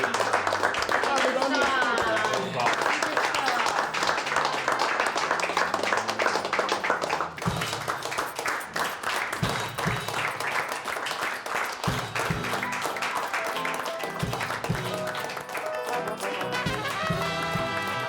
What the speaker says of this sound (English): a big round of applause for Brenda Susur.